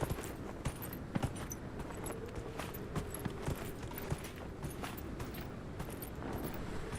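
Horse hooves clip-clop in the Dragon Age video game, a continuous patter of hoofbeats over a steady mid-level background of game ambience, with no talking.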